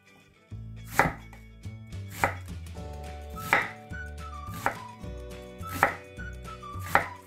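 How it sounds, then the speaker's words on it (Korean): A knife chops through onion on a board in steady, evenly spaced strokes, about six sharp cuts, close and clear over faint background music. "양파는 약간 크게 썰어 주셔요."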